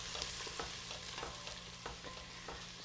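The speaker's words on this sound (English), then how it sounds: "Just want to gently cook these vegetables down." Vegetables for a carrot and dill soup gently cooking down in a pot, giving a soft, steady sizzle broken by light, regular stirring scrapes, with no one talking.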